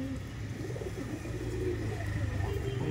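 Madras pigeons cooing softly in a Tollygunge loft, low repeated coos in the background with voices talking nearby and faint traffic.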